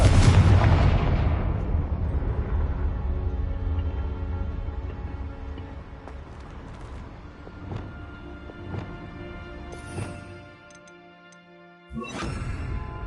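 Confringo explosion spell cast in Hogwarts Legacy: a loud, booming blast that fades slowly over several seconds with faint crackles, then a second sharp burst near the end, with no talking.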